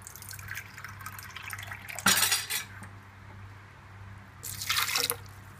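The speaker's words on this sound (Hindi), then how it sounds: "इसमें थोड़ा सा पानी डाल दीजिए" Water splashes into a mixer jar holding aloe vera for juice, two short bursts of pouring set among light clinks of utensils and dishes in a quiet kitchen.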